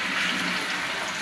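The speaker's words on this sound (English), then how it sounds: "I'm just going to give these a quick rinse off." Tap water pours steadily over shishito peppers in a colander, a continuous close splashing rush with no talking.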